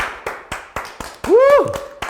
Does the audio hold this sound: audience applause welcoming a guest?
yes